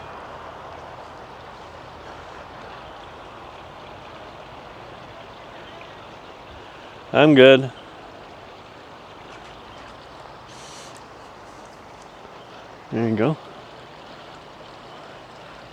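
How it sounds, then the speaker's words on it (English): A small brook flows near a Sedona campsite as a faint, steady watery rush, with two short bursts of people talking over it. "brook or a stream."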